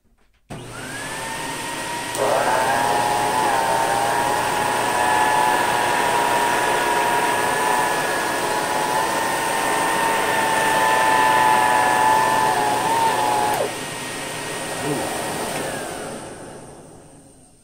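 A classic Electrolux Olympia One canister vacuum with a replacement vinyl hose cleans a carpet edge. It gives a steady, loud, close motor whine that rises in pitch once the nozzle engages, holds for about eleven seconds, then drops back and winds down.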